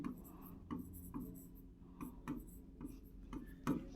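Marker or chalk strokes on a classroom board during a lesson, a series of short scratchy taps and rubs in irregular rhythm, fairly close and faint, with no talk.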